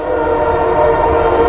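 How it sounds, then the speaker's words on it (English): A passing train with sustained horn blasts sounds loud and close, a steady layered tone over rumbling wheels, with no voices. "57th train so far today."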